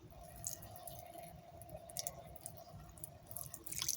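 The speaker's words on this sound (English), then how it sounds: "it will bubble as the oxidization process works" Tiny fizzing bubbles and faint pops as hydrogen peroxide reacts with hair algae in an outdoor medaka rice fish pond, scattered quiet crackles over a low steady hum, with no talking.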